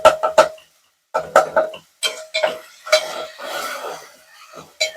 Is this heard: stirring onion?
yes